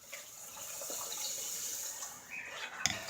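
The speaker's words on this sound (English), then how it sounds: "And then I will put 2 cups of water in." Water poured from a container into a pot of washed green lentils for Turkish soup, a soft continuous splashing stream with a few small clinks near the end, fairly quiet and close.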